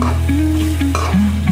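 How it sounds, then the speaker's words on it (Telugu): Potatoes frying for aloo fry while chili powder is stirred in, a loud steady sizzle close by with a spoon scraping and tapping against the pan. "నేనైతే కారం అంతా కలిసేలాగా అయితే మొత్తం కలుపుకుంటున్నాను"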